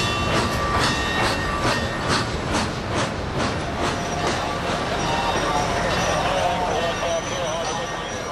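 A Frisco steam locomotive hauls Amtrak passenger cars past, a loud, steady rumble of rolling wheels and clattering cars with a rhythmic clickety-clack, the whole train close and continuous throughout.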